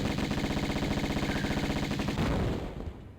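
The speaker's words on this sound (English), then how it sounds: "another one spawns in so that we can use our Uzi on them, because we're gonna have the Uzis" Rapid Uzi gunfire in the video game Tomb Raider Remastered, a dense continuous burst of rattling shots that runs for a few seconds, then cuts off and fades.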